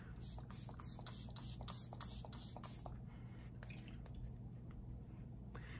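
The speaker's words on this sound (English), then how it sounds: "So first thing I'm gonna do is I usually just spritz this all over my face." A moisturizing face mist sprayed onto the face: a quick run of about nine short, hissing spritzes in the first half, then quieter rustling over a steady low hum.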